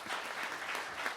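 Brief, steady applause from a conference audience in Jeju, a dense wash of clapping with no voices.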